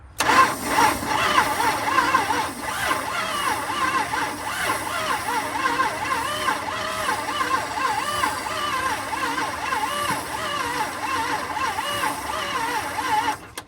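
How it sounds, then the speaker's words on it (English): The 383 big block V8 in a 1970 Dodge D100 Sweptline truck cranks slowly and steadily without catching, a continuous close churning for over ten seconds. "Cranking kind of slow."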